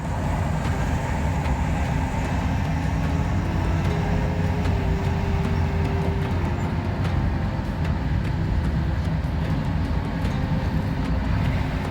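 Busy street traffic in Cairo, Egypt, forms a constant dense rumble of engines and road noise, steady throughout with no speech on top.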